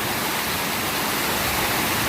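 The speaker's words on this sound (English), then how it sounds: "I love the sound of rushing natural water" Natural water rushes beside a small nature trail, a dense, loud, even hiss of flowing water with no breaks or voices.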